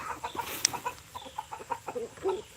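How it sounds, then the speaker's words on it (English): Newly hatched chicks, two blue and one black, give short high peeps and clucks in a close, irregular patter against a quiet farm background on a weekend morning. "we got 3 chicks that are fully outside the shell now"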